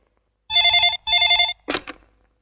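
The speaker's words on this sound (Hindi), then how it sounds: "बॉस का फोन 2 मिनट में आया।" Two long electronic telephone rings, each about half a second of bright trilling tone separated by a short gap, loud and close, followed by a brief soft rustle.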